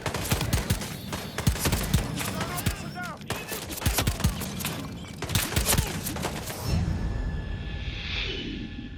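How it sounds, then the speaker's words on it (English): Suppressive gunfire in the video game Hitman 3, inside a manor: rapid bursts of shots and sharp impacts with whooshes, quieting into a fading tail near the end. "Suppressive fire."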